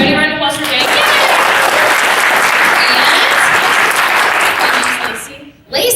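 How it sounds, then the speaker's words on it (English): An audience at a convention voice-acting panel breaks into loud, dense applause for a participant named Jake, swelling fast, holding strong and dropping off abruptly near the end, with a voice heard at the start and finish. "Everybody round of applause for Jake."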